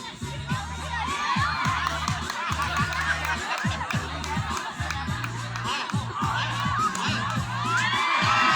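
A crowd cheering and shouting at an outdoor event, a dense roar of many excited voices with children's yells, steady and loud, over a repeating low rhythmic drumbeat.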